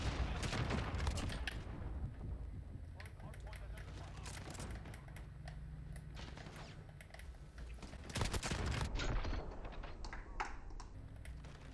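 Rapid shotgun blasts in a video game firing a wide pellet spread, loud sharp bursts repeating in clusters over continuous game noise and clatter, with a voice talking throughout.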